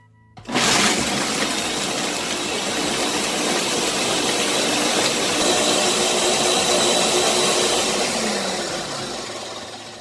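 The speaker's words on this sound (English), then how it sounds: "I'm going to come and blend it all up" A blender whirring at full speed through soaked nuts and water for nut milk, a loud, continuous roar starting abruptly and holding steady before easing slightly at the end.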